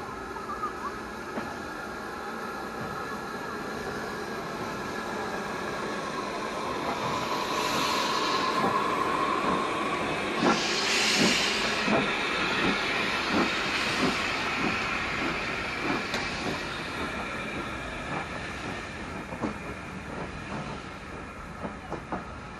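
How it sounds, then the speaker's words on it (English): The Jacobite steam train crosses a canal bridge, heard from a distance outdoors. A low rumble swells and then fades, with rhythmic clickety-clack of wheels on the rails and faint hissing. No one speaks. "in just a few moments, we're going to see a steam train"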